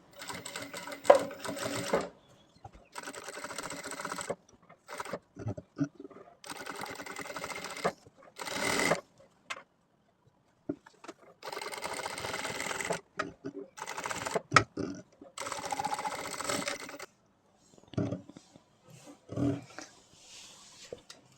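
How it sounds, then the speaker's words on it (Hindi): A sewing machine stitches a kurta neckline in short repeated bursts of rapid mechanical chatter, alternating with pauses and someone talking in between. "उधर हम सिलाई लगाएंगे।"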